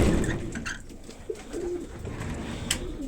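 Racing pigeons around a loft cooing in soft, low, rolling calls, several birds close by, with faint scuffles and a brief flutter in the background.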